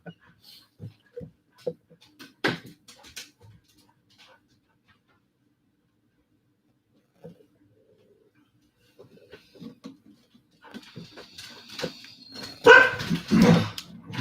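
Two dogs bark in scattered bursts, a few sharp yips early on, then a louder flurry of close barking near the end, with quiet gaps between.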